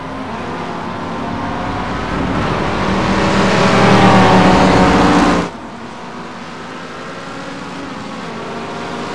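Mustang race car engines in iRacing swell to a loud, close roar of high revs, then cut off abruptly to a quieter steady engine drone.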